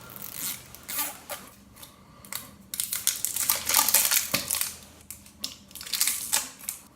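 Crinkly plastic and cardboard packaging of a concealer makeup product being handled and opened up close, in irregular bursts of rustling and crackling with short pauses between, and no talking.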